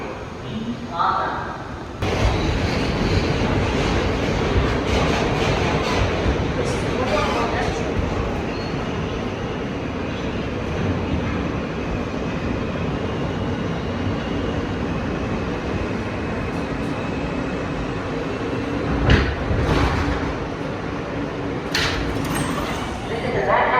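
M local subway train bound for Queens Plaza, a loud continuous rumble and rattle of the cars in motion, with a few sharper clanks along the way.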